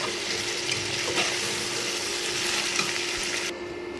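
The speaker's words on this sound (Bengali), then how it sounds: "দেখুন সবজিগুলো কিন্তু আমি বেশ সময় নিয়ে ভাজতেছি" Vegetables for khichuri frying in a pan, a steady close sizzle running without pause for about three and a half seconds before dropping off, with no talking over it.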